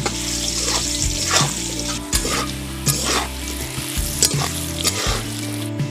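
Potato pieces frying in hot oil seasoned with salt and turmeric: a dense, continuous sizzle close up, broken by occasional stirring scrapes, with a low melodic background running underneath.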